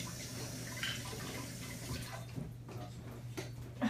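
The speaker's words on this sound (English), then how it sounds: "I'm gonna rinse my hands off" Hands rinsed under a running kitchen tap, a soft continuous splash of water with brief drips and a low hum in the background.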